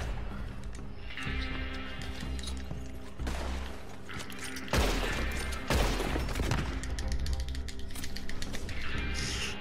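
Gunfire in the Red Dead Online video game, likely from a bolt-action rifle, sounds as sharp, loud blasts and repeated bursts over a constant game soundtrack of music and hum. Heavier impacts land near the middle of the stretch.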